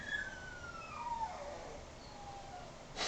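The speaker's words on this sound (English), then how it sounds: "Are we gonna have the dog noises in the background too?" Faint, drawn-out dog howls and whines sweep downward in pitch, sitting low in the background under a steady hum for about three seconds, with no speech.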